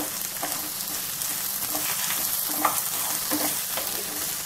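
Beans, carrot and three colours of capsicum stir-fry on full flame on a tawa for spring rolls, with a loud close sizzle and repeated spatula scrapes and stirs.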